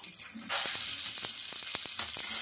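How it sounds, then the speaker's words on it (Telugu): A fresh coconut breakfast sizzling in an oiled pan, a close, continuous crackling fry with scattered small pops and spatters throughout. "ఇంకా రెండు వైపులా బాగా ఫ్రై అయిపోయింది"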